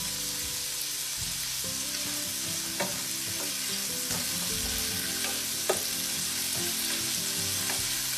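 Shrimp and chicken fry in a hot pan for yellow Spanish rice with turmeric and seasoning, giving a steady, loud sizzle with a few soft scrapes and clicks of stirring throughout, and no talk.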